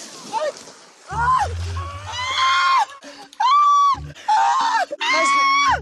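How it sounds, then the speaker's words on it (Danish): A person screams loudly in several long, high bursts separated by short gaps, with low sloshing water sounds beneath some of them. "Ikke skrig så højt, det er synd for krabberne."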